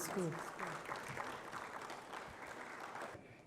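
Audience applause at a University of Ghana Business School dialogue event, a steady spread of clapping through most of the stretch, fading at the end, with some voice heard early on.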